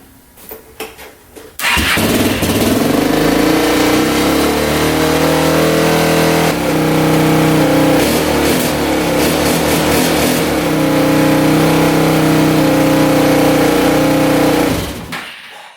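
A Kawasaki KFX400 ATV engine, with its air boot newly refitted, catches after a couple of seconds, then runs loud and close for about thirteen seconds with uneven revving before cutting off abruptly.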